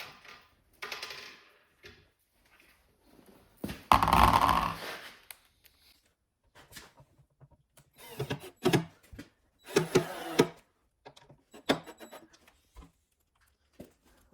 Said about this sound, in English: I'm just using the gun to get them in there